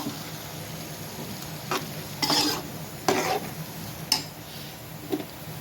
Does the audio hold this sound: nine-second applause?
no